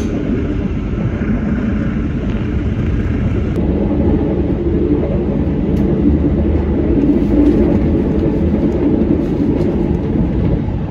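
Inside a Logawa New Generation passenger train travelling toward Yogyakarta, a steady loud low rumble of wheels and carriage fills the whole stretch, with faint rattles and knocks on top.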